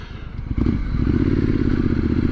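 A 2023 Triumph Scrambler 900 cruises along with a steady low engine rumble and road noise. After a brief clatter the sound stays loud and constant, and no one speaks.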